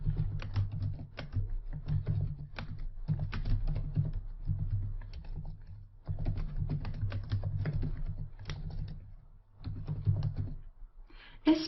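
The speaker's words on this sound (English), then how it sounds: "I'm going to type in" Typing on a computer keyboard comes in close, quick bursts of clicking with short pauses between runs of keystrokes.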